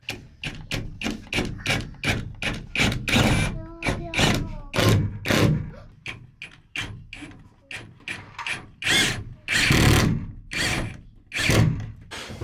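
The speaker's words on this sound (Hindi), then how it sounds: "अब एक इसको स्क्रू करके देखते हैं।" A power drill drives screws through a wooden plank into a camper van ceiling. Close, loud, repeated clunks and ratcheting bursts come in an uneven rhythm, with a brief whirring spell partway through.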